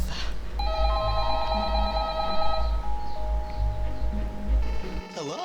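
In the Home Alone video game, a telephone rings with a steady electronic tone to order pizza, followed by a warbling tone, with a voice talking over it and game music underneath.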